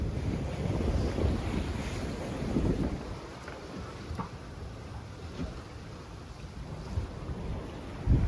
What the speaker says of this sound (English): Still having some pretty good sailing here.